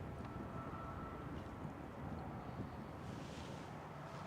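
Wind blows outdoors at Manchester Airport, a steady broad rushing roar buffeting the microphone, with a faint distant aircraft hum underneath and no talking.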